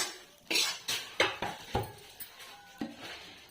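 Fried okra is scooped from a kadhai into a pot, giving a series of sharp metallic clinks and scrapes of a utensil against cookware, several irregular knocks close by with no talking.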